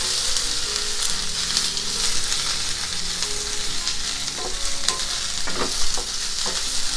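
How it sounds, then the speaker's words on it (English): Pieces roast in a pan for a potato stew with coconut, making a steady close sizzle with frequent stirring scrapes and no talking. "We'll roast this golden."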